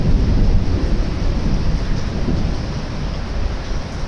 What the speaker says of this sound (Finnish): ei oo kyllä loppunut vielä ainakaan ukkonen